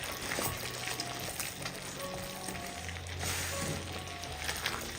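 Roasted okra and scrambled egg fry together in a pan, giving a loud continuous sizzle with scraping and stirring sounds across the whole short stretch.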